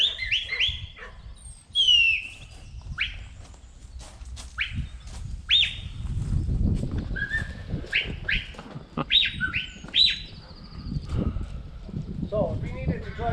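Sheepdog working a flock of sheep in an Irish field during a herding demonstration, with sharp whistled commands and calls, bird chirps, and rustling movement and occasional bleats or barks, under outdoor noise.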